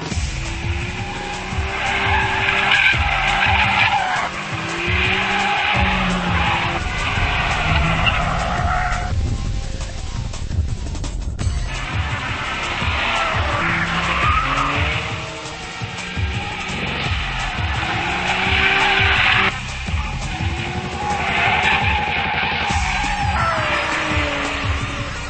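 A turbocharged 2008 BMW 335i and a 330-horsepower, high-revving 2008 Infiniti G37 S race hard on a track, engines roaring and revving continuously with repeated tire squeals and skids, loud and close.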